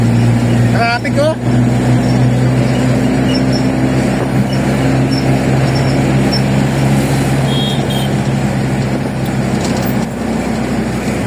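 Steady road traffic at Nagtahan Bridge in Manila during morning rush, a loud continuous rumble of car and truck engines with a few beeps and a horn, heard close up under ongoing talk.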